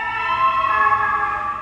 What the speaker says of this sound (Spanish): Las ambulancias.